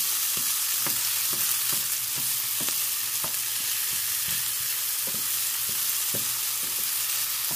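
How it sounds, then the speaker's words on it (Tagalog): Onion sautéing in a pan for tacos, a constant sizzle punctuated by sharp scraping clicks of a utensil stirring at an irregular pace, close and unaccompanied by speech. "So first ay igigisa ko muna itong onion."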